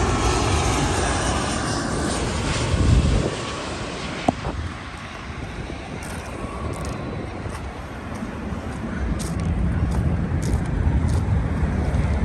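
An airplane comes in to land at LAX, its engine roar loud and rising as it passes, then fading to a steady distant rumble with wind noise underneath.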